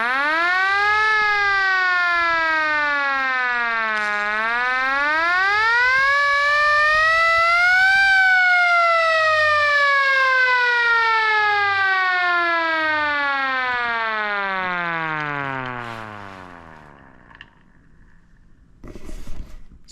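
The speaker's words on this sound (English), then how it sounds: "So it's a police siren," Hand-cranked police siren with geared shafts and an internal fan winds up into a loud rising wail, wavers and climbs again, then spins down in a long falling moan before going quiet, with brief handling sounds at the end.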